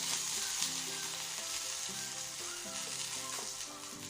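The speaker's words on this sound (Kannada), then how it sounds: "ಈ ಮೆಣಸಿನ್ಕಾಯಿಗೆ ಸ್ವಲ್ಪ ಎಣ್ಣೆನ ಹಾಕಿ ಇದನ್ನ ಫ್ರೈ ಮಾಡ್ಕೊಳ್ಬೇಕು" Green chillies fry in a little oil with a soft, steady sizzle and light crackle, joined by occasional gentle stirring and utensil scrapes, fairly quiet and close with no talking.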